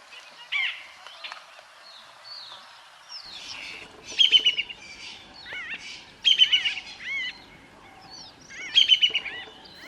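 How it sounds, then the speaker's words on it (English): Wild birds chirp and whistle near a waterhole in South African bush country, bright repeated call phrases coming in bursts every couple of seconds against a quiet background, no voices. "Lots of other bird life is here, of course."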